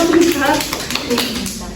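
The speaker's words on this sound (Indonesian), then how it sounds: "Kita tepuk tangan semuanya." A classroom of students claps during a microteaching lesson, short scattered hand claps at close range mixed with a voice speaking over them.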